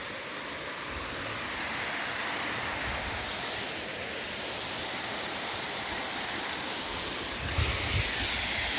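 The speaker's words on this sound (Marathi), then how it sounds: "तिथे धबधब्यावरती पाहू शकतो तुम्ही, निसर्गरम्य असं" Rushing water at the Ranatli waterfall makes a steady, dense roar that fills the whole stretch, with a few low rumbling thumps near the end.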